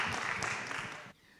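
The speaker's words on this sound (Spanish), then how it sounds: "Un fuerte aplauso" Audience applause for a doctor introduced before a medical talk on pain and muscle relaxants: a dense, steady burst of clapping that fills the room and then cuts off abruptly after about a second.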